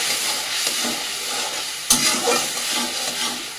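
Spice paste with chili powder and a splash of water frying in a pan, sizzling steadily while being stirred, with a single sharp scrape of the spatula partway through.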